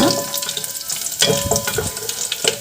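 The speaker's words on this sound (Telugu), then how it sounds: "తర్వాత పోపు దినుసులు తర్వాత ఎండుమిర్చి కరివేపాకు వేసుకొని బాగా మిక్స్ చేసుకోవాలి మీడియం ఫ్లేమ్లోని బాగా ఫ్రై చేసుకున్న తర్వాత" Tempering spices, dried red chillies and curry leaves frying in hot oil for a pepper garlic rasam, a close, steady crackling sizzle with stirring clatter throughout.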